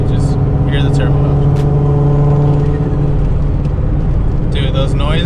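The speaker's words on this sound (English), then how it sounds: "those noises going uphill too, so the turbo's just spooling" Turbocharged Z car driving uphill, a steady droning engine hum with a sustained whining turbo tone, continuous and close, with brief voices over it.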